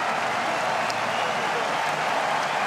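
Stadium crowd at a Rugby World Cup 2019 pool match between France and Tonga applauding Tonga, a steady, dense wash of clapping that holds evenly throughout.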